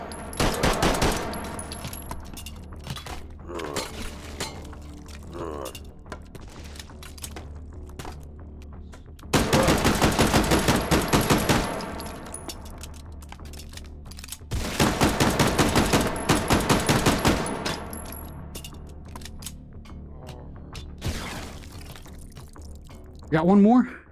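Bursts of gunfire in the VR game Hot Dogs, Horseshoes & Hand Grenades, loud rapid volleys coming in several separate clusters with quieter gaps, while a player talks over and between them.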